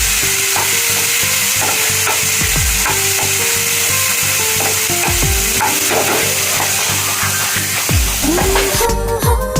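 Sliced vegetables for a cluster bean stir-fry sauté loudly in a pan, with constant sizzling and repeated scraping strokes of a spatula. A few tonal clanks and squeaks come from the utensil. No one speaks.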